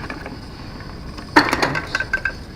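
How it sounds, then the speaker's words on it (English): A glass is handled by a person with essential tremor while getting water, giving a sudden clink followed by several small rattling taps and knocks close by against a low background hiss. "I'm just trying to get a glass of water here"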